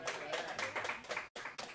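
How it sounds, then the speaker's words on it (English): Clapping from a small audience at the Blue Llama jazz club during a live-streamed trio performance, a brisk patter of hands with a brief drop near the end, voices faintly under it. "Big round of applause."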